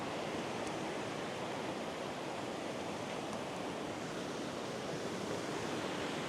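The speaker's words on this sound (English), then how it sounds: "No safe ascent up that waterfall." A waterfall by Buttermere in the Lake District pours with a dense, constant rushing roar, loud and near, with no voices over it.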